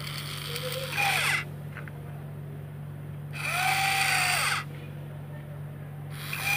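A small DC motor, run as a drill, whirs in strong bursts of about a second each with quieter gaps between them, over a constant low electrical hum, close by.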